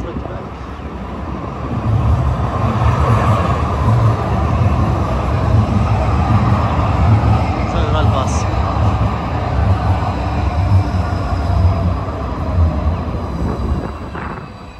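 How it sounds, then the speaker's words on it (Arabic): A Calgary light rail train arrives at a station with a loud, sustained rumble and rail noise that builds after the first couple of seconds and holds steady. A faint voice is heard in the background. "القطار جاي"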